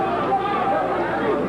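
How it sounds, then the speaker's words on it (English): Wrestling fans at a 1980 Central States arena match cheer and chatter, a dense crowd hubbub holding steady throughout. "They're cheering him on."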